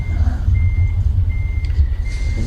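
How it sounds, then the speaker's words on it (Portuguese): A truck's proximity sensor beeps as the truck sits close to a wall: a steady high-pitched tone that cuts in and out over a loud idling engine rumble, close and continuous. "Esse bip é porque está muito próximo aqui da parede, né?"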